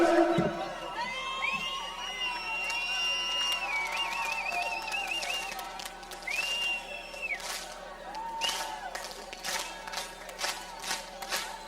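A concert crowd at a Malagasy stage show cheers, whoops and shouts, with scattered clapping and sharp whistles rising over a continuous roar that swells and dips across several seconds.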